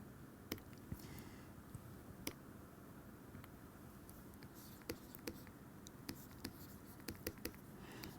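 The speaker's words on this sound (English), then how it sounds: "I am going to write it in a different color because this is not conserved" Marker or chalk writing on a board during a physics lecture, faint scratchy strokes with sharp taps of the tip against the board scattered over a quiet room hum, no talk.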